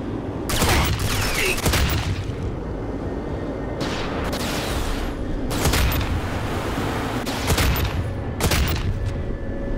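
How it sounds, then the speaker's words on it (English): Heavy turret gun in the RAGE shooter, The Scorchers add-on, firing in four loud, separate bursts of booming blasts spaced a couple of seconds apart, each with a rumbling tail over steady low background noise. "This gun isn't very effective, surprisingly. It's on the turret."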